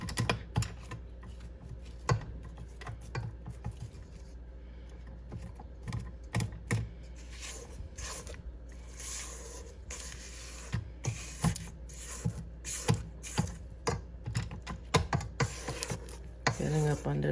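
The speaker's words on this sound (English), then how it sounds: "I'm going to, again, scrape the sides of the bowl" Spatula scraping the sides and bottom of a mixing bowl of chocolate chip cookie dough, a quiet series of irregular scratchy strokes and soft knocks close by.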